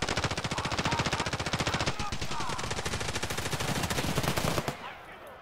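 A machine gun with a 100-round magazine fires long rapid sustained bursts in Tarkov Arena, a dense rattling stream of shots that cuts off abruptly near the end, with faint talk.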